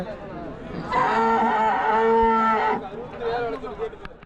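A Holstein Friesian cow at the Salem cattle market gives one long, loud, drawn-out moo with a tonal bellowing quality, followed by a shorter, fainter call amid a low background of market murmur.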